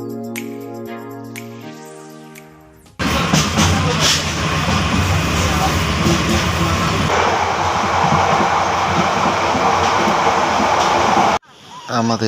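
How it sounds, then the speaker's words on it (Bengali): Brief music gives way to a loud, continuous rumbling roar of a passenger train travelling toward Cox's Bazar, which cuts off abruptly near the end. "তাই ট্রেনে যাত্রা শুরু করলাম।"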